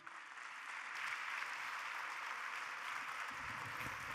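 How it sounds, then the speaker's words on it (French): A conference audience claps in a steady, dense wash of applause that holds at an even level throughout, with no voices over it. "Je pense qu'on peut encore une fois les applaudir."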